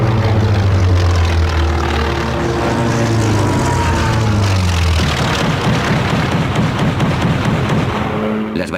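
A World War II propeller aircraft engine roars loudly, its pitch sweeping downward as it dives toward the Japanese fleet, then a rougher, pulsing engine drone takes over close by.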